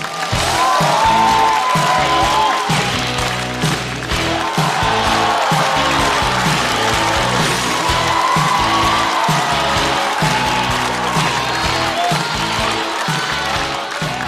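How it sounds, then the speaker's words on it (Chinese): Audience at a Chinese stand-up comedy show welcoming a comedian onstage, a sustained loud wave of clapping and cheering with whoops, full and continuous, with an amplified voice and music over it. "掌声欢迎姜子浩"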